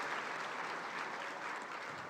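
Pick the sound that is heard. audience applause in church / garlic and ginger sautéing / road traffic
audience applause in church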